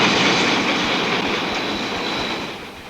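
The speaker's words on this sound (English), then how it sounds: "Steam whistles echoing down the Broken River Gorge" A loud, steady rumble of a steam train in motion on a mountain railway, with rhythmic low thumps and a faint high whine, fading slightly toward the end.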